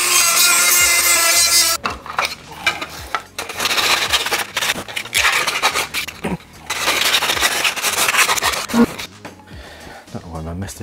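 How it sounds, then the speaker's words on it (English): Hand sanding along the edge of a Stormtrooper ammo belt, close rasping strokes in irregular bursts with brief pauses, loud and near, with some talk mixed in. "I'm going to sand this edge down a little."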